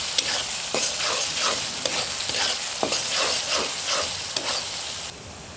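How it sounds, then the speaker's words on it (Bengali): Onions fry in a pan while being stirred repeatedly, giving a steady loud sizzle broken by rhythmic scraping strokes of the spoon, close up and with no talk. "ভালো করে নেড়ে ছেড়ে পেঁয়াজগুলো লাল করে নিব।"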